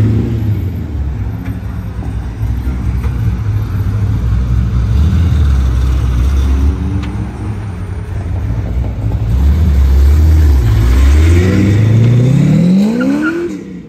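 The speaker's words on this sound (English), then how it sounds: "This Corvette is gonna go nuts at the green light." A Corvette at a traffic light revs hard and accelerates in a burnout, the loud engine roar rising in pitch through several climbing sweeps with a hint of tire squeal, close and dominant.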